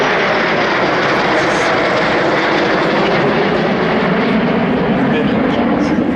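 Jet fighters, a MiG-15 and an F-86 Sabre, roar past at an air show, a loud, steady engine rumble sustained throughout, with commentary audible beneath.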